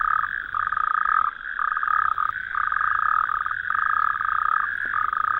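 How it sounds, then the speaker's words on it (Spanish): Frogs croak in a dense, continuous chorus at a pond in the dark, pulsing calls overlapping in steady rhythmic bursts, loud and close with no pauses. "Y a oscuras, solo croando se puede ofrecer un argumento válido."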